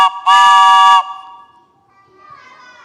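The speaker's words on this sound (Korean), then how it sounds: "기차 소리가 들렸기 때문이에요" A train horn sounds for a listening guessing game: one loud sustained blast of about a second, then a fainter, more distant horn tone trailing off.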